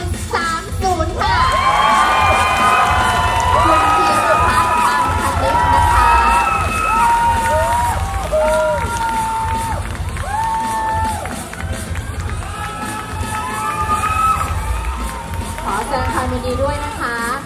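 A pageant audience at a male beauty contest in Thailand cheers, whoops and claps loudly and continuously, with excited shouting rising over a dense crowd roar while amplified music or voices play underneath.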